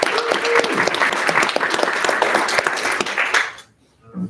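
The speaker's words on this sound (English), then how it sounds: "Huge round of applause for Sunil." A round of applause at a Founder Institute Toronto graduation event, steady crowd clapping for several seconds that stops abruptly, followed by a brief quiet gap.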